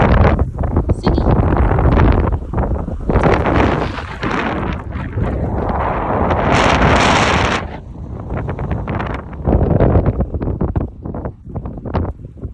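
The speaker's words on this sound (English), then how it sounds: "Look how windy it is" Loud, gusting wind buffets the microphone in heavy roaring bursts during an outdoor dog walk, with a voice faintly present beneath the rumble.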